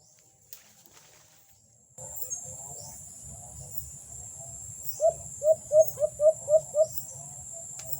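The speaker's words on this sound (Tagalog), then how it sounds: "Ayan na mga idol, humuhuni na si One Eye mga idol no" An alimokon dove calls during a hunt with a quick run of about six soft, evenly spaced coos, heard over a steady outdoor hum of crickets and insects.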